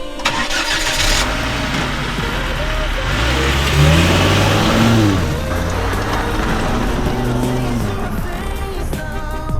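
Engine of a lifted Volvo XC70 running steadily as the car pulls back onto the road, a continuous close rumble with rising and falling revs through the gears and some faint talk mixed in.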